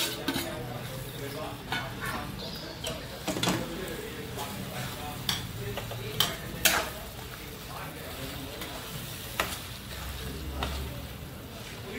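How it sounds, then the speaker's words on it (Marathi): Prawns going into spiced masala for biryani, with a steady sizzle and frequent scraping stirs and clinks of a utensil against the pan, close up throughout. "आता कोलबी टाकूया आपण."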